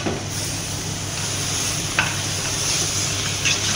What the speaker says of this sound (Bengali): তারপর একটু নাড়া দিয়ে দিই